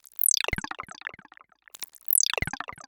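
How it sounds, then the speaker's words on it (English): Psytrance synthesizer squelch with ring modulation and chorus, giving a digital, sword-like tone: two bursts of rapid descending zaps and gurgling pulses, loud and upfront with a short gap between them. "We have like a digital sword kind of sound."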